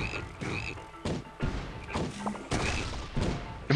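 Frog croaks from the Battle Block Theater video game come in rapid repeated bursts with thumps and clatter, forming a choppy, irregular rhythm at moderate loudness.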